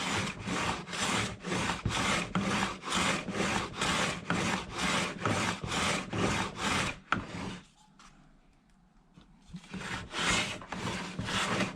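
A Carter No.7 jointer plane shaves wood in quick, regular rasping strokes, about two per second, close and clear, pausing briefly before the rhythmic planing resumes.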